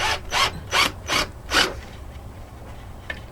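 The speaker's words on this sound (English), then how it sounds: "Once your hole's in place, you can just drive a screw in there." A 3/4 inch number 6 screw is driven into a wooden frame in five quick ratcheting bursts, then a faint tap, close and moderately loud, with no voices.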